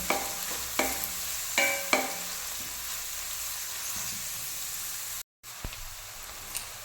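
Onions frying until brown while being stirred in a pan, with a few sharp utensil scrapes early on over a constant soft sizzle and a brief dropout before the sizzling resumes.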